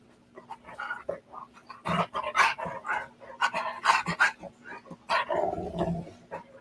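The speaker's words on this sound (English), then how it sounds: "That's his starting growl" A pet dog growls playfully up close in short rumbling bursts mixed with panting, snorts and a few small barks, fairly quiet overall.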